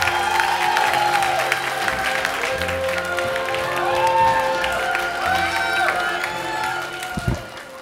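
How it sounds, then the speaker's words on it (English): Comedy show audience applauding a comedian, with cheers and whoops over steady clapping and music playing underneath. "How about a big round of applause for Ken Boring?"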